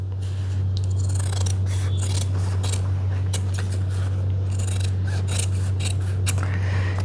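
Scissors snip blouse fabric for a continuation collar in a tailoring setting, with repeated close cuts over a steady low hum and no speech.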